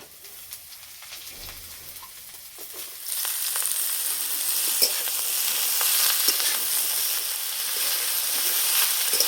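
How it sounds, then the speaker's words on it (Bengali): Fresh pumpkin greens hit a pan of fried onion, garlic and dried red chili: a quiet background gives way to a sudden, louder, sustained sizzle with faint crackles as the cooking continues. "পেঁয়াজ আর রসুন ভালো করে ভেজে নিয়েছি, এবার শাক দেব"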